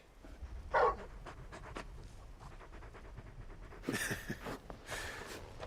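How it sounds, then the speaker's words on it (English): A big dog in the video game Final Fantasy XVI pants softly in quick, rhythmic breaths, faint and close, with a couple of sharper rustling bursts partway through. "You're just a big puppy, aren't you? A very big puppy."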